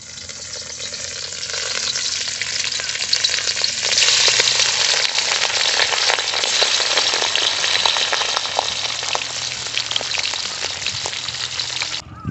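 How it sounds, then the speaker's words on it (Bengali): A second batch of rohu fish pieces deep-fries in hot oil in a village kitchen, cooked until crisp for a kohlrabi fish curry. A loud, dense, continuous sizzle holds for the whole stretch, close up, with no talking. "সেকেন্ড রাউন্ডের মাছগুলো আমরা দিয়ে দিচ্ছি ভাজার জন্য।"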